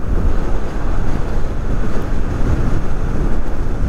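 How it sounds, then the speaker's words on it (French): Strong wind buffeting a microphone while riding an electric scooter at speed, a steady loud rumbling roar with no talk over it. "Ouah, le vent, il est archi méchant de ouf."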